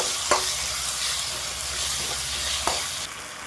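Chopped onions and tomatoes fry in a pan while being stirred. A steady sizzle runs throughout, broken by a couple of sharp scrapes from the spoon against the pan.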